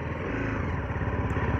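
BMW G310 GS motorcycle on a test ride, its single-cylinder engine putting out a steady close throbbing hum with no talking.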